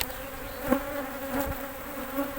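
Honeybees buzz in a steady, close drone at a hive in an apiary, with a few individual bees swelling louder as they pass near, no voices.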